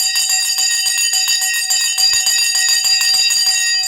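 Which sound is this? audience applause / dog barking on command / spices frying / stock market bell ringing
stock market bell ringing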